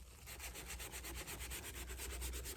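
Wet 400 grit sandpaper rubbed over a shoe, a close, steady back-and-forth scrubbing with a quick even rhythm and no pauses or talk.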